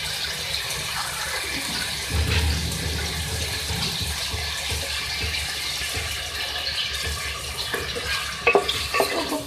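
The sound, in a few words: chicken balti cooking in pan after adding water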